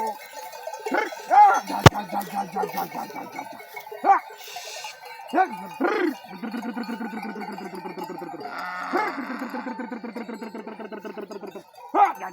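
A sheep bleats repeatedly at close range in wavering, quavering calls of varying length, with short pauses between them, while someone talks in between.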